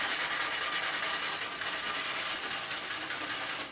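Hand sanding of a painted motorcycle gas tank on a GS550 cafe racer with 300 grit sandpaper, a steady close rasping rub with quick back-and-forth strokes, loud and continuous with no talk.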